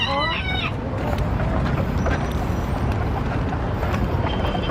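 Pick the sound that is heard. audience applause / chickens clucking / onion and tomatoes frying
chickens clucking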